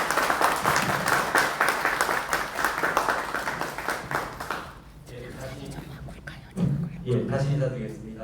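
An audience at a Korean peaceful unification council launch meeting in New Zealand welcomes a professor with lively, dense applause that fades out after about five seconds, followed by someone speaking.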